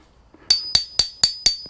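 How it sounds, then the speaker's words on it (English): Five sharp metallic hammer strikes flatten a screen door hinge in a steady rhythm, close and ringing, with no talking. "Hammer that down flat till it seats"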